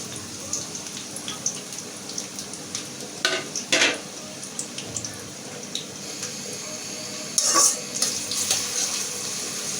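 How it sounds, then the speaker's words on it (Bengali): Onions and green chillies sizzle in hot oil in a pan, a steady crackling fry punctuated by a few sharper stirring scrapes and spits, close and fairly loud. "তেলটা গরম হয়ে গেছে আমি এখন পেঁয়াজ দিয়ে দেব পেঁয়াজ কাঁচামরিচ একসাথেই দিয়ে দেবো"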